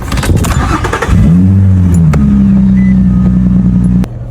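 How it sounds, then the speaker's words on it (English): A car engine cranks and starts after an oil change, then settles into a loud, steady idle close by before cutting off. "turn the starter and let it run for a little bit."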